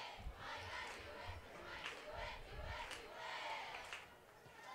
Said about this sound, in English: this crowd for Kearns, though, doing their best to will their team to another first down